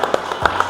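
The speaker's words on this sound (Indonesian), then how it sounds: "Tepuk tangan dulu." A handful of sharp hand claps, spaced irregularly and fairly quiet, at an Indonesian motorsport association gathering in West Java, with faint voices around them.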